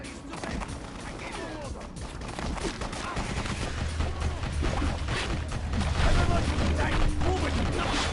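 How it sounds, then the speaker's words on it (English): Enemy guns fire repeatedly in the BloodRayne game: dense, continuous bursts of gunshots and clattering impacts that build louder toward the end, with a steady low rumble beneath. "It's the guns that are getting on my nerves. Them constantly shooting at me."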